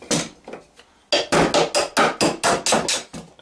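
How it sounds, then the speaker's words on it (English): A small hammer taps metal while forming a kydex magazine pouch, a few light strikes followed by a quick, steady run of about eight sharp, ringing blows. "I find using a small hammer makes things a little bit easier for me."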